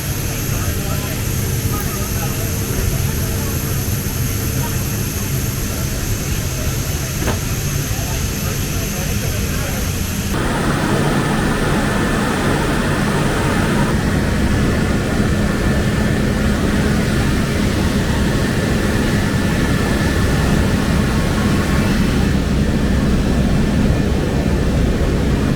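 Steady, loud roar of jet engines fills the cabin of a C-17 military transport aircraft in flight, a constant broadband rumble that shifts in tone partway through.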